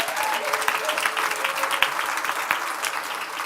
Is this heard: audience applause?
yes